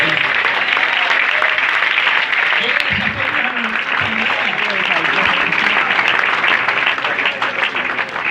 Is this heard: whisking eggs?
no